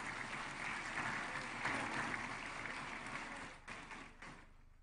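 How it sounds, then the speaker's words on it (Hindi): Sustained applause from the audience at a book launch ceremony attended by the President, a dense clatter of clapping that thins out toward the end. "हम सबकी ओर से एक बार पुनः तालियों की गूंज के साथ इन सभी का अभिनंदन"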